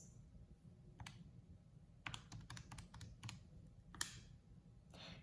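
Light plastic calculator key presses tap out an irregular run of clicks, some in quick bursts, over a quiet background hum.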